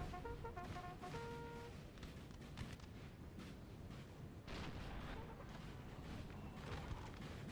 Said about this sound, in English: Now we do have the 6-pounder shooting at French artillery, or French infantry as well.